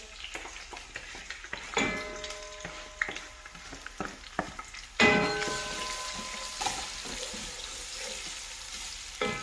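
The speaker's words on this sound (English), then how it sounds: "So we are stir frying our onion." Red oil sizzles and crackles in a pan while onion is stir-fried, with clanks of a utensil and a louder burst of frying midway.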